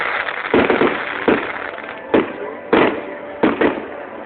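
Fireworks at a São Pedro bonfire festival, with five sharp bursts spaced through the stretch over a continuous crowd murmur and some faint voices.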